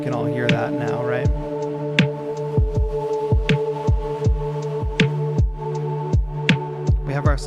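An Ableton beat with sidechain compression: a steady electronic track with a sustained tonal pad ducking rhythmically under repeated punchy kick drum hits, giving a regular pumping pulse, loud and alone.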